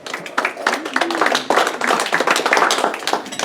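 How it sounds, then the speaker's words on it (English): Photography club audience clapping at a competition, a small group's scattered, fairly close applause that builds and holds for a few seconds, with some talk underneath. "Give yourself a round of applause."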